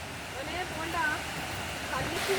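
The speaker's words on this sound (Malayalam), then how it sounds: "സൂചിപ്പാറ വെള്ളച്ചാട്ടം കുറച്ച് ദൂരെ നിന്നും ദൃശ്യമായി തുടങ്ങിയിട്ടുണ്ട്" Soochipara waterfall in Wayanad rushing as a steady broadband roar, continuous and fairly distant, with faint voices now and then over the constant water noise.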